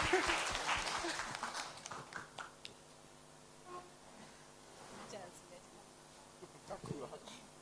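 A burst of clapping from a church gathering, loudest at the start before fading within a couple of seconds, followed by quieter room sounds and talk.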